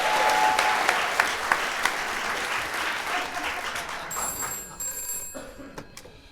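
Studio audience applause on a 1975 radio comedy show, a broad patter of clapping that starts loud and gradually thins, with a telephone bell ringing near the end as the clapping fades.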